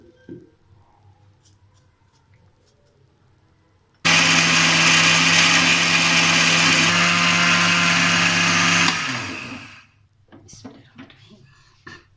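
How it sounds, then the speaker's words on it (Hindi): An electric grinder whirs loudly at high speed, milling chaat masala spices with ammonium chloride added, running steadily for about five seconds before winding down, with quiet kitchen sounds before and after. "अब हम इसको मशीन में पीसते हैं"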